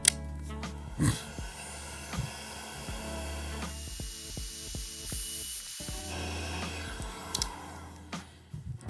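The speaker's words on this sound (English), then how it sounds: "I'm gonna take this heat gun, I'm gonna use heat to shrink this connection onto the wire" A heat gun blows hot air to shrink a connector onto a wire, a steady close whooshing hiss interrupted by handling knocks and brief shifts in the airflow tone.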